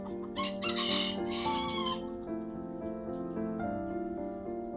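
Chickens, a mix of local and imported birds, cluck and cackle beside a garden trap. Loud, close calls come in a burst at the start, then repeated softer clucks continue.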